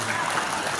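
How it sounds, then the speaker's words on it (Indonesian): Audience applause at an Indonesian PMII alumni anniversary celebration and halal bihalal gathering, a brief steady wash of many hands clapping at moderate volume with no gaps. "tepuk tangan untuk beliau."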